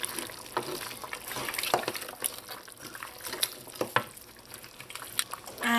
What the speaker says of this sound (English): In goes the shrimp. Just gonna give this a mix.